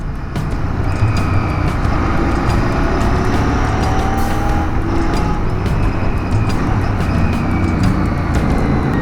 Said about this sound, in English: that exhaust is too loud for my liking